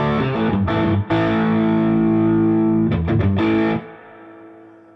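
Electric guitar through a Gristle King overdrive pedal on its clean boost setting, played live: loud sustained chords with a few rhythmic stabs, ringing out and fading at the end, no talking.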